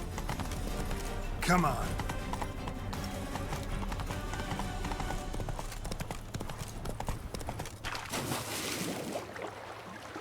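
Roach the horse's hooves clip-clop steadily in The Witcher 3, a continuous trotting rhythm with splashy water-like noise near the end, while someone speaks briefly over it.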